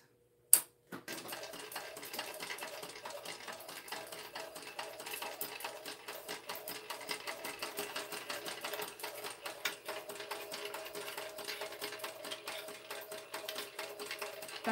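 Sewing machine stitching down the sides of a small fabric tote bag, a steady rapid mechanical clatter running continuously after a brief click at the start, close and fairly quiet with no speech.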